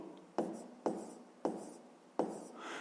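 Pen or pencil strokes on paper while a fifth-grade maths solution is written out by hand: four separate short scratching bursts, each fading quickly, close and fairly quiet.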